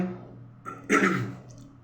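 A single harsh cough bursts out after a brief throat sound, loud and close, then trails off into quiet.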